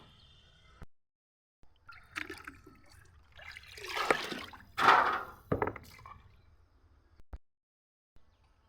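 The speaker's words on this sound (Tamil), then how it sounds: "இதுக்கும் ஊற்றுவோம் இந்த மாதிரி இதுக்கு ஊற்றிட்டேன்" Water poured onto eggplant plants in a garden comes as several uneven splashing bursts and trickles, close and moderately loud, separated by near-silent pauses, with no talking.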